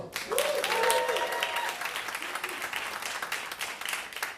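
An audience at a comedy show at a hotspot venue claps in a brief, moderate round of applause that thins out gradually, with some voices mixed in.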